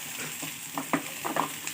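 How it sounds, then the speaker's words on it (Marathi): Sliced onion frying in a kadhai over medium heat: a soft, steady sizzle broken by a few light scraping stirs, fairly quiet and with no talk. "आपण कढईतच कांदा भाजून घेणार आहोत बघा कांदा आपण कसा छान भाजून घेत आहोत"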